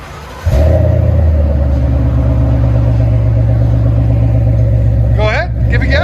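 A 2018 Ford Mustang GT with a 5.0L Coyote V8 and Flowmaster 40 Series dual exhaust starts and idles with a loud, deep, burbling rumble close by, then rises briefly in a quick rev near the end.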